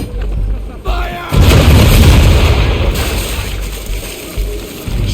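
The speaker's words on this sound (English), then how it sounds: "Now, aim all guns at her bow and do as much damage as possible." Naval cannon volleys from a sailing warship firing on an enemy vessel in Assassin's Creed III, heavy booms rolling one after another in a loud, continuous barrage with water and battle noise around them.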